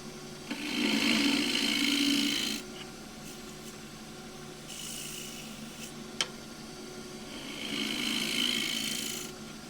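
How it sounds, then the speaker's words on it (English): A scraper cutting a Tasmanian blackwood bowl turning on a wood lathe, shaping a cove near the rim, in three rasping passes with quieter gaps and one sharp tick between them, close and without talk. "scraping up there and putting a bit of a cove on it"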